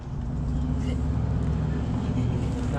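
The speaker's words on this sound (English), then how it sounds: "riding the Banshee through the hood" Yamaha Banshee ATV riding through a neighborhood, a steady engine drone with road noise heard continuously from close by, with voices faintly present.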